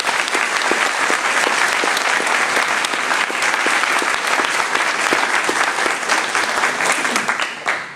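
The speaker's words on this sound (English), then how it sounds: "how about giving them a round of applause?" An audience at a court clerk candidate forum claps in a full, steady roar of applause that holds for several seconds before tapering off at the end.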